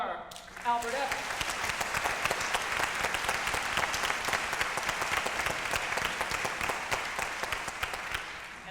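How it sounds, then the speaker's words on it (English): Audience applause at an evening singing performance, a sustained round of dense clapping that swells in after a moment and carries on steadily. "And please, a special round of applause for Albert Evans."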